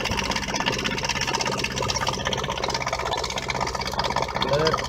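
A Whale Watermaster FP0184 water pump motor runs continuously as it builds pressure, a steady mechanical hum with faint whine, heard close throughout.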